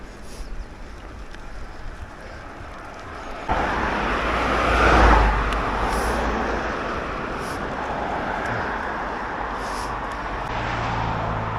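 Traffic on a busy road beside a rural footpath: a steady roar of passing vehicles that swells as one car goes by close at hand, with wind buffeting the microphone.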